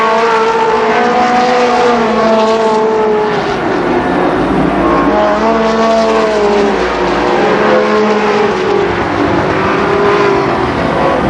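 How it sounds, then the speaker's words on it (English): A V6 race car engine roars around Columbus Motor Speedway during a 1991 main event, loud and close, with rising and falling revs as it accelerates through the laps. "That V6 coming back."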